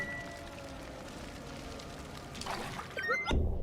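Watering in the game Turnip Boy Commits Tax Evasion, a soft pouring trickle over a steady background hum that swells briefly near the end.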